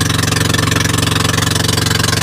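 An old boat engine runs at a steady idle, chugging in an even, rapid rhythm, loud and close with no one speaking.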